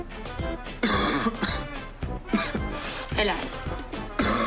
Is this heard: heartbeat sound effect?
no